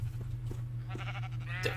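Blocky Minecraft sheep give short, scattered bleats from a small flock being herded, heard over a constant low game hum, with one brighter cry near the end.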